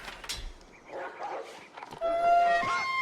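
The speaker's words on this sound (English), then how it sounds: "Those wolves can be annoying." Wolves in the strategy game Age of Empires IV yip and whine in short bursts, then a louder drawn-out howl rises near the end, with faint game sounds behind.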